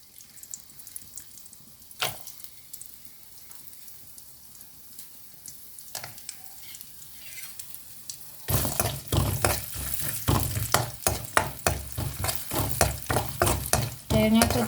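Coconut pieces drop into hot coconut oil for a dried shrimp roast. After a quiet stretch with faint clinks, a loud, close sizzle bursts in and keeps crackling under repeated stirring scrapes.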